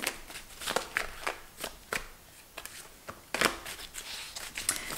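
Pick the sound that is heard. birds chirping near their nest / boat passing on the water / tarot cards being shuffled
tarot cards being shuffled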